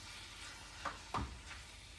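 Squid sizzles in a pan with ginger for adobong pusit, a soft steady frying hiss with two brief louder clatters as pieces land in the oil; no talking.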